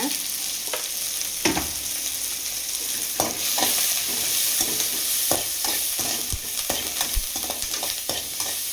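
Onions sizzle and fry in a pan for the fish puttu while a spoon scrapes and stirs them in irregular knocks, close and steady with no talking.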